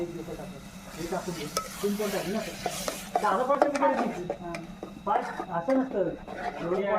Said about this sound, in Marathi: ग्रेव्ही मसाला चांगली चांगली भाजून भाजून घ्यायची